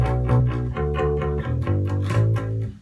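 A low, distorted bass guitar line pulses in steady eighth notes, repeating a short two-bar riff with a few pitch changes, loud and alone.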